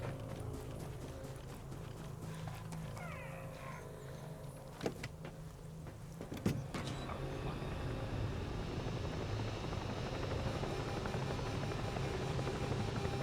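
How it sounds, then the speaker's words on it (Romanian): A drone hovering nearby in the video game Ghost Recon Breakpoint, a low steady buzzing hum that holds throughout, with footsteps and a couple of sharp thuds over it. "Vezi că s-aude o dronă de aia."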